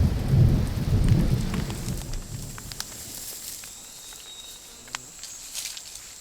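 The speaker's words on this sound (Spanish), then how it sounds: "Es que está lloviendo todos los días" Heavy rain pours through a tropical forest while thunder rumbles low and loud in the first couple of seconds, then the downpour continues more evenly with scattered drips and patters, no voices.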